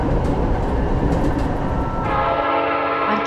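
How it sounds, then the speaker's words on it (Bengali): A train pulls away and runs along the tracks, a steady dense rumble with rail rattle that thins to a smoother, more distant hum near the end, with no voices. "তারপর আবার ট্রেনটা ছেড়ে দিল।"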